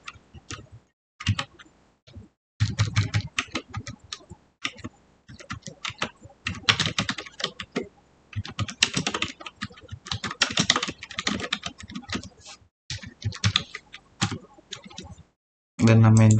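Rapid keystrokes on a computer keyboard as data is entered into a form in an investment information system, arriving in quick irregular bursts with short pauses, close and fairly clear.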